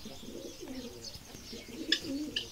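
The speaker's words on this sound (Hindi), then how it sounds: "ये डब आज रहमान के पास दोबारा आ गया" Pigeon-like dove cooing close by at a small village mini zoo, a few soft low coos with a faint chirp in the background and no talk.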